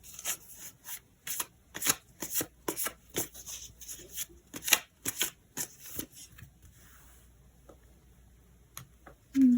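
Tarot cards shuffled for a reading, a run of quick crisp riffling bursts in an irregular rhythm for about six seconds, then quieter scattered card handling, close and moderately loud with no talking.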